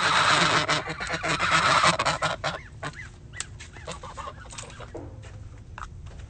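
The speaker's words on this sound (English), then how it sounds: "Say goodbye to the geese." Young geese honk loudly near a garden, a dense chorus of nasal honks at first that thins to scattered, quieter calls over a low background.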